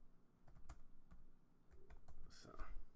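Quiet clicking of keys on a computer keyboard as someone types a search into a Windows menu, scattered uneven taps close by, with faint speech around them.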